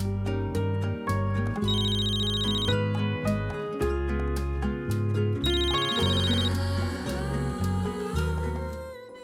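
A telephone ringtone plays loudly and continuously, repeating melodic electronic rings with a higher warbling tone in two bursts, with no talk over it.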